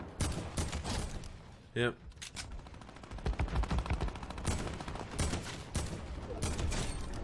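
Gunfire rattles through a Fortnite Battle Royale match in rapid, dense bursts that continue almost throughout. A player briefly speaks over the shots.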